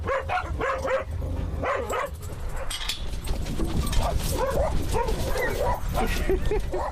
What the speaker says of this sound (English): no one is happier than the dogs themselves as they pull into the parking lot of the dog park